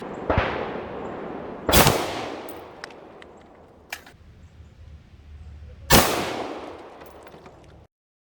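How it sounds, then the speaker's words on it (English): FN 5.7 pistol firing into water jugs outdoors: three sharp loud shots spaced a few seconds apart, each with a splashing, decaying tail, plus a couple of fainter smaller cracks between them. "I'll throw in a quick video of our very scientific jug shooting."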